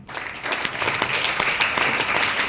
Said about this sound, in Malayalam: ഈ വ്യക്തിക്ക് നമ്മൾ പ്രസന്റേഷൻ സ്റ്റാർട്ട് ചെയ്യുന്നതിന് മുമ്പേ നല്ലൊരു കയ്യടി അടിക്കണം